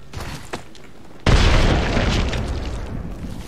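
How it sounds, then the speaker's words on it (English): Frag grenade exploding in Apex Legends, a sudden loud deep boom that cuts in after a moment of quieter game sounds and rumbles on before slowly fading. "Frag thrown."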